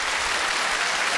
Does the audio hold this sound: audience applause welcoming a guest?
yes